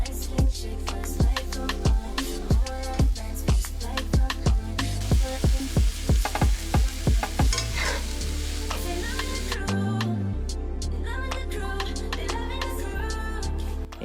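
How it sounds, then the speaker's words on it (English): Frozen spinach hits a hot frying pan, giving a loud, steady sizzle with a rapid run of sharp crackles and pops that thins into a continuous hiss, with no talking. "Lastly, I'm gonna add in my frozen spinach."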